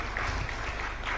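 Audience clapping at an opening session of the Kenya Internet Governance Forum, a steady broadband patter sustained for about a second without pause.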